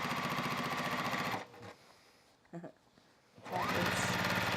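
A sewing machine runs steadily, stitching a quilted fabric basket along its bottom edge, then stops for about two seconds with a few faint handling sounds before the motor resumes its close, even whir.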